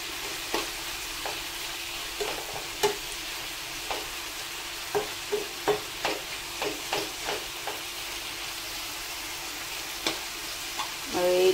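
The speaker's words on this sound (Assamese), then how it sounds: "এইটো অলপমান ফ্ৰাই কৰি লম" Pasta fries in a pan with black pepper and salt, giving a soft steady sizzle under a series of distinct scraping and clinking stirs from a utensil, spaced irregularly and close by.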